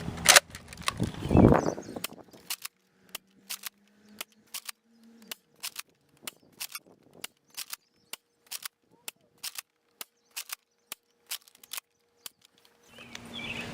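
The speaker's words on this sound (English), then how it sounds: "Again, stock Retaliator, no barrel attachment, loading and firing." Stock Nerf Retaliator blaster with no barrel attachment loading and firing AccuStrike darts: a steady run of about twenty sharp clicks and snaps roughly every half second, close and fairly loud, with a brief rustle and a few words before the shots begin.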